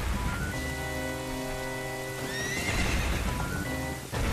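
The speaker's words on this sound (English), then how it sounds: "a drawbridge opens on a stormy night and 2 people ride away one on a white horse" Horses clip-clop and whinny through rain on a stormy night by a drawbridge in Ocarina of Time, the hoofbeats and neighs set over steady rainfall and game music.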